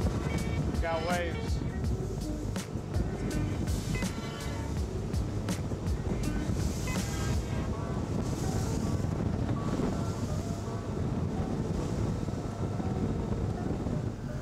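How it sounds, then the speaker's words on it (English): Waves on Lake Keowee during a boat tour: a continuous roar of wind buffeting the microphone over engine hum and water splashing against the hull, steady and loud throughout. "Got waves."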